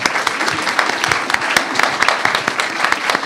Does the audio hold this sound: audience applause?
yes